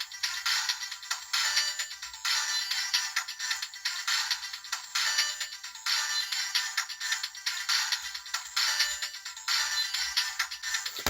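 An electronic sound effect from a Takara Transformers GO! Optimus toy, a bright, high-pitched looping chime resembling a ringtone that repeats continuously for several seconds, loud and close with no talking.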